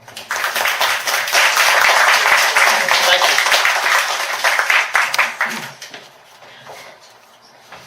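An audience applauds an author at a book reading, a dense burst of clapping that swells for several seconds, then thins out and fades, with a brief spoken thanks near the end.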